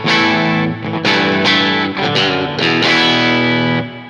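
Handmade Telecaster-style electric guitar played straight into the amp with no pedal, bright strummed chords and ringing notes sounding loud and continuous for about four seconds, with no talking.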